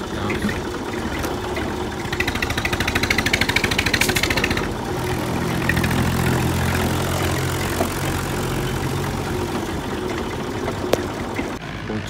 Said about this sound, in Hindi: कर देते हैं अपने ट्रैक्टर को स्टार्ट और चलते हैं भाई